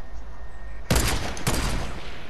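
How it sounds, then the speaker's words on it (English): Two loud, close gunshots crack from a sniper rifle in a video game, fired at a shack window, the second following about half a second after the first, over a low background hum. "Watch this snipe. I'm gonna try to shoot the window."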